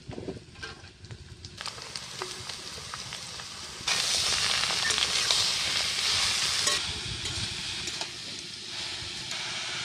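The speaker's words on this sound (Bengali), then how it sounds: "আলুটা একটু আমি ভাজা ভাজা করে নেব হয়ে গেছে কেটে রাখা চাল কুমড়োটা দিয়ে দিচ্ছি" Potatoes frying in a pan give a crackling sizzle that swells louder midway as chopped ash gourd goes in, with occasional clinks of stirring.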